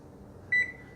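A kitchen timer gives a single short electronic beep while being set, clear against a quiet room hum.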